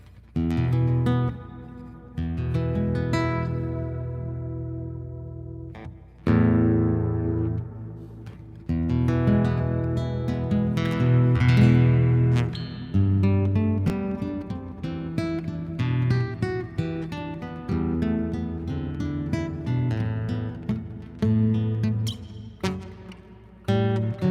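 Electric guitar notes and chords from a Telemaster Pro ring out with a long, spacious large-hall reverb tail, played in phrases with brief pauses between.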